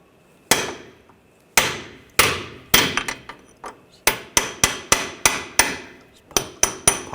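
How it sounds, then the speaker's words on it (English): A metal punch is hammered against the back of a front left CV axle on a 2009-2010 BMW 535i xDrive with a 3.0L inline-six: about seventeen sharp, ringing close strikes, first spaced apart, then in quicker irregular bursts. "I'm just going to take a punch from the back side of the axle and just give it a tap."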